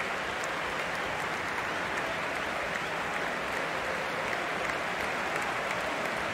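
Anfield crowd applauding Luis Díaz as he is substituted off in the 62nd minute of a Liverpool match against Tottenham, a steady, dense wash of clapping from a large stadium crowd throughout, with no talk.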